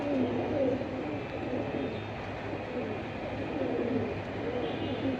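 Pigeons at a market sale cooing in low, soft, repeated rolling calls, steady throughout amid crowd murmur and background bustle.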